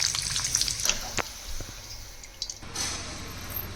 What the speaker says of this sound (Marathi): आता इडली फ्राय सोबत खाण्यासाठी मी मिरची तळून घेते थोडीशी.